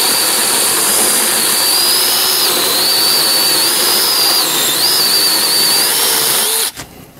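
A cordless LYUWO LW D20 chainsaw cuts through wood up close with a loud, steady high whine that wavers slightly and then cuts off abruptly near the end.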